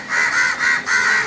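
Three harsh, nasal crow caws sound in quick succession, loud and close with short gaps, standing alone without any talk.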